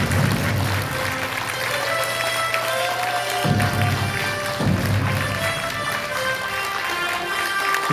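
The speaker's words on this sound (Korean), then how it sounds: "여러분, 큰 박수 부탁드립니다." An audience at the launch event of a Korean political party platform claps steadily and fairly loudly, a dense, sustained round of applause with no break.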